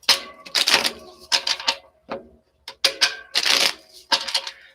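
Tarot cards are shuffled in quick riffling bursts, several crisp slaps and flutters with short pauses between them, close up.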